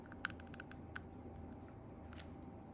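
A few sharp, quiet clicks from an LDV Maxus D90 (MG Gloster) key fob locking the car, then a short cluster of clicks near the end, over a steady low hum in a garage.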